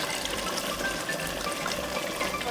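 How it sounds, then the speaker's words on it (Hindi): Half a cup of water pours into a pot of chicken achaar gosht, making a steady, continuous splashing rush throughout with no talking. "अब आधा कप पानी शामिल कर दें"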